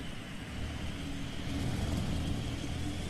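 A 1997 diesel drag machine with twin turbochargers and fuel injection rumbles toward the starting line, a low, steady engine drone that grows slightly louder partway through and holds without clear revs.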